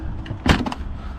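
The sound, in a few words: campervan fridge door being opened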